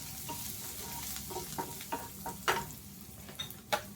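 Spices sautéing with dried curry leaves in a pan, a constant soft sizzle broken by a series of scraping stirs that grow sharper and louder toward the end.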